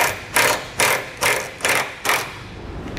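A ratchet with a 3/4 inch socket tightens trailer hitch bolts on a Curt hitch receiver install, heard as about six rhythmic, close clicking bursts in quick succession that fade off at the end.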